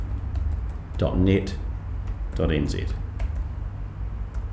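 Web address being typed on a computer keyboard, steady soft key clicks running under a voice that speaks briefly twice.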